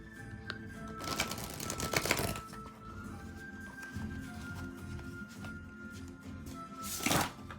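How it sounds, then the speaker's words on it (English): A deck of cards is shuffled up close, with a couple of quick riffling bursts separated by quieter handling and soft rustles, and no talking. "they are not the most easiest cards to shuffle, but they shuffle beautifully, as you can see"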